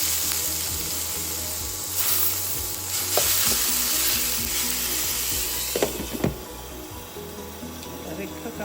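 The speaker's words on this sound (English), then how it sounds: "I'm gonna turn the salmon over." Salmon fillets fry in a pan in a steady, close sizzle after being flipped, with a few sharp utensil scrapes and clatters near the end and no speech.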